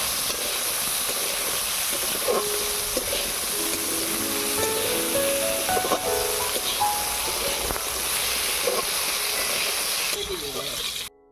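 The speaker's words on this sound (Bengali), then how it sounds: "আলুটাকে এবারে ভালো করে ভেজে নেবো" Potatoes sprinkled with salt and turmeric fry in hot oil with a loud, steady sizzle and hiss, broken by scraping stirs and clanks of a utensil against the pan before it cuts off abruptly.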